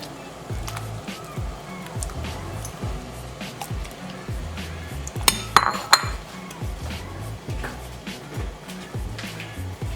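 Pieces of raw chicken for boiling drop with soft thuds and squishes into a metal pot, clattering lightly against it, with a few sharp clinks midway.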